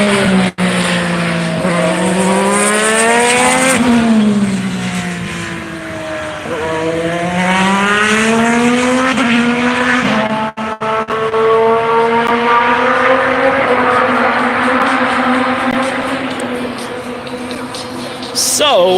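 Jimmie Johnson's IndyCar at a track test screams loudly and close, the engine note rising and falling through gear changes as it passes, sustained and dominant for the whole stretch.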